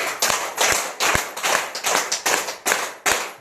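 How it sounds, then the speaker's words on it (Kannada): Loud, sharp hand claps ring out one at a time in a steady rhythm, about eight strikes close by with brief gaps between them, as part of a tai chi and yoga exercise. "ಈಗ ಚಪ್ಪಾಳೆ ತಟ್ಟಕ್ಕೆ ಶುರು ಮಾಡಿ ಜೋರಾಗಿ"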